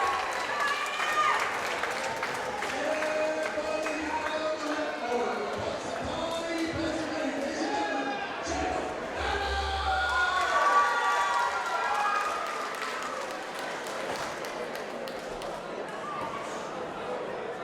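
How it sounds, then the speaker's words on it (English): Crowd at a Cubs Hall boxing night, a continuous murmur with scattered cheering and applause that swells midway, heard under an announcer's voice throughout. "We have a very good crowd here tonight."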